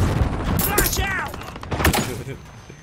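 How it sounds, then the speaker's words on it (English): A flashbang grenade goes off amid dense automatic gunfire and explosions in Call of Duty Modern Warfare, leaving a thin high ringing tone at the end while a voice talks over the chaos. "I flashbanged myself."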